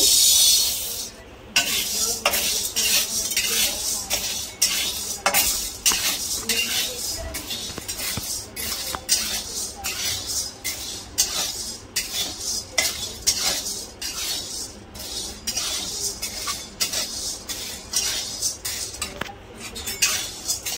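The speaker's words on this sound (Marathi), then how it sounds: "आता आपण ही चण्याची डाळ भाजून घेऊ" Chana dal dry-roasting in a pan over low heat for chakli bhajani flour, with steady metallic scraping and clinking of a spoon stirring it, a continuous close rasping rhythm throughout.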